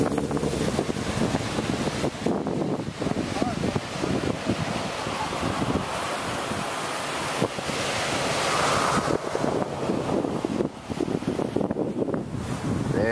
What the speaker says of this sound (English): here's some more ocean